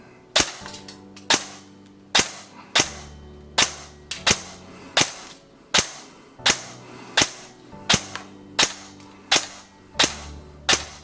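An M.I.PIX C001 custom M4 airsoft replica (LT-29 Proline Gen 2 PDW) fired semi-auto in a shooting test: sharp, loud single cracks repeating at a steady pace of roughly one or two per second, each followed by a brief mechanical ring.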